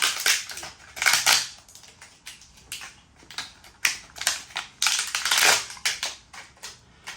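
Plastic packaging torn open on a new keg line for a Philips Perfect Draft machine, a series of close crinkling rips and crackles in irregular bursts with short pauses between.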